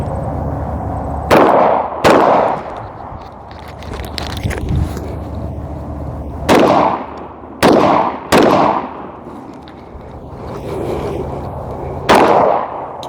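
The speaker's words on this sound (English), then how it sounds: "I don't know how it sounded when I was shooting out on the range earlier, but here's some clips just if you're curious." Gunshots fired at an outdoor shooting range: about seven sharp, loud cracks, some in quick pairs, each with a decaying echo tail, separated by quieter gaps of ambient noise.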